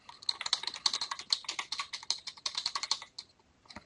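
Rapid typing on a computer keyboard while building a web part page, with a steady run of close, crisp key clicks that stops briefly and then resumes with a few last taps.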